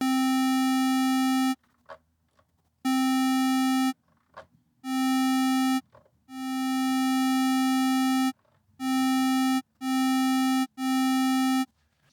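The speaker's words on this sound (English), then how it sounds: "Increasing the attack means that the sound will take longer to reach its full volume." A Deluge synthesizer plays a bright, buzzy tone in about eight separate notes. One longer note swells in gradually because of the slower envelope attack, while the others start more abruptly, with short silences between notes.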